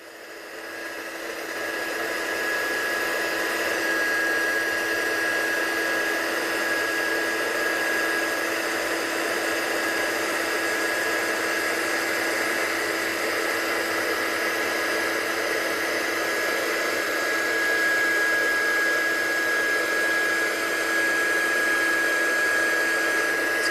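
A heat gun blows steadily for over twenty seconds as it sets embossing powder, a constant close whirring hiss with a thin high whine, rising at the start and then holding level.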